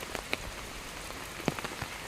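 Steady rain falls on a surface near a farm plot where water is running, making a soft, even hiss broken by a few sharper drops landing close by.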